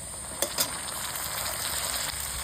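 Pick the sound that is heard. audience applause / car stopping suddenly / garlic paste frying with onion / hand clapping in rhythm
garlic paste frying with onion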